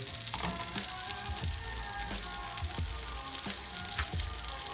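Butter sizzles steadily in a warm pan, a dense continuous crackle with a few sharper pops and light scraping taps over it, close and alone with no talk.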